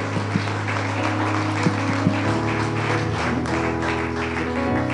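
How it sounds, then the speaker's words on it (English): A church congregation gives a sustained clap offering, with dense, continuous clapping blended with ongoing instrumental music throughout. "give him a great big clap offering"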